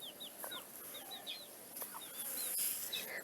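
Desi chickens cluck in short, repeated calls, close by, with rising chirpy notes scattered over a quiet outdoor background.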